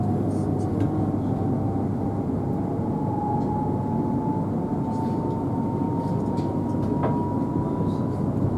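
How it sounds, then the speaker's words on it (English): A West Midlands Railway passenger train running between Walsall and Wolverhampton, heard from on board as a steady loud rumble and hum with a faint rising whine, continuous throughout. "Welcome aboard this West Midlands Railway service for Wolverhampton."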